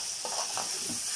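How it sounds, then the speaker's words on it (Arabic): Liver with curry and green pepper sautés in a pan, a soft continuous sizzle with faint stirring sounds over a brief moment. "وهنسيبها بقى تتشوح مع بعضها"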